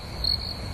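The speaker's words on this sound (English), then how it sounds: "am I allowed to ask for crickets, Mark?" A cricket chirping sound effect plays as a steady, high, thin trill, moderately loud and alone, briefly swelling midway after a joke falls flat during a sports podcast.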